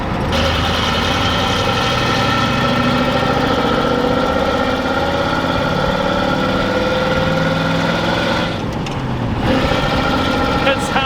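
A Cummins diesel truck engine with a NASCAR-style exhaust idles steadily with a deep, rumbling chug, loud and close, holding a constant low throb throughout.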